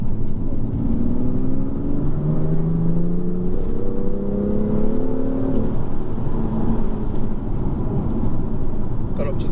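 A 2018 BMW M2 Competition with a dual clutch transmission accelerates from inside the cabin, its engine note rising through several quick gear changes under a constant road drone, loud and close.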